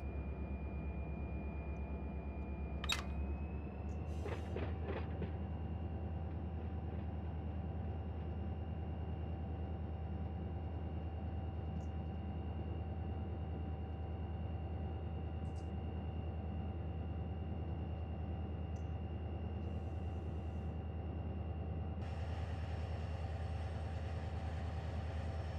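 Freight train a mile long rolling in the Run 8 Train Simulator game, a steady low engine drone and rumble with a brief clank and squeal early on, continuous and moderately loud throughout.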